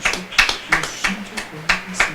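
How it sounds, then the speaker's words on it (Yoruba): A church congregation clapping in unison in praise, a quick regular run of sharp hand claps close by, about eight beats in two seconds. "Clap for Jesus."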